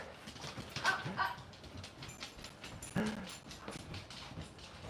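A dog barks and yips indoors during a live stream beside a golf hitting mat, with several short barks and whimpers, moderately close, over a muffled background.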